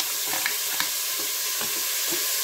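Broccoli and mushrooms frying in rendered bacon fat inside a Cookeo multicooker, a steady close sizzle with a few soft stirring clicks and scrapes, no voices.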